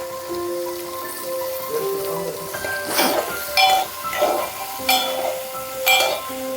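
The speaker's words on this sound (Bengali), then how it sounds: "পেঁয়াজ রসুন হালকা ভাজা হতে হতে দিয়ে দিচ্ছি মটরশুঁটি এবং গাজর" Onion and garlic frying in a pan for Maggi soup, with peas and carrots tipped in, giving a soft sizzle under clinking and stirring, with a few scrapes and metallic taps.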